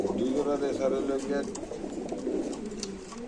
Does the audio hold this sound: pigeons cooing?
yes